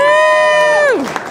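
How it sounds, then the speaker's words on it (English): A comedy-show audience cheers loudly, one sustained whoop holding steady and then sliding down in pitch as the crowd noise thins out. "another big round of applause for Sean O'Leary."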